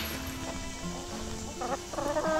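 Molting chickens cluck and make short squawking calls close by over a steady, noisy outdoor background.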